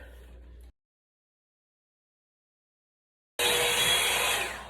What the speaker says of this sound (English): you're gonna put the blow dryer on top of the hair and I'm gonna turn it on